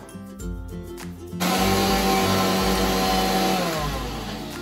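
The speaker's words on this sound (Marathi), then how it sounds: "मिक्सर होतोय आपला मागे, मस्त असं वाटण तयार होतंय" A mixer grinder starts up after a few quiet clinks and whirs loudly and steadily as it grinds coriander and cumin into a spice paste, close by, with no talking.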